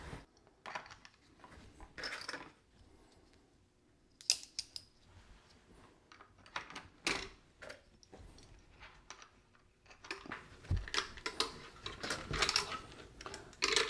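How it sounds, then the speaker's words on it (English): Tape being pulled and pressed along the edge of a 3D printed PETG mold for plaster slip casting, a series of close, sharp ripping and crinkling bursts separated by quiet pauses. "We will need to tape the edge right there."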